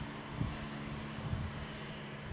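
An Air Arabia airliner touching down on runway 25L at Brussels Airport, a steady broadband engine roar with low rumbling swells, heard from a moderate distance without talk.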